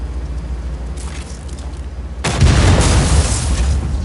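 A generator blows up after being shot in Just Cause 4: a sudden loud explosion bursts in partway through and leaves a heavy, rumbling roar over the steady background game noise.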